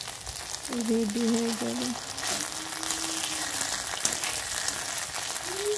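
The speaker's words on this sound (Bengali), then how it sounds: "ভালো করে ভেজে নিতে হবে লো ফ্লেমে।" Goat fat pakoras fry on a low flame in oil, giving a steady, even sizzle that runs throughout while someone speaks Bengali over it.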